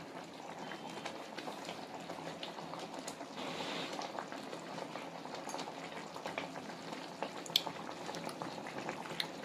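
A brinjal and chilli tamarind curry simmers in a pot, giving a steady, low bubbling that stays soft and continuous, with faint stirring or clinks now and then and no voices.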